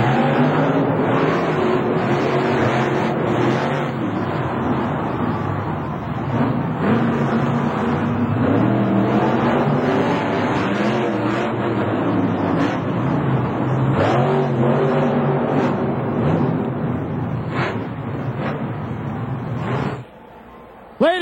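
Monster trucks Gravedigger and Taurus race in the final race of the night at a motorsport event, engines revving loudly and roaring near and continuous, with a brief drop at the end.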